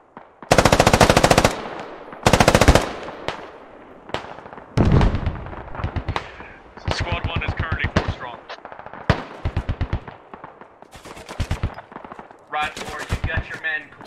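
Rapid bursts of automatic gunfire and single shots crack loudly during a tactical video game firefight, with long rattling volleys and short pauses repeating throughout, with faint radio-style voices under the shooting.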